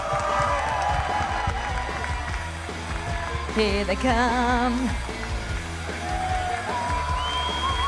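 Arena crowd at an esports grand final cheers and applauds as two Fnatic players arrive on stage, a loud, continuous roar of voices and clapping beneath a presenter speaking over it.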